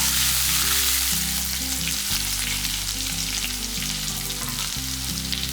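Six small shallots sauté in a pan for thuvaiyal with a close, steady, dense sizzle that runs throughout beneath background music.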